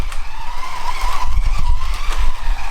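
A small electric slot car whirs around its track, a continuous buzzing motor whine with rumbling and rising, falling pitch, close and steady.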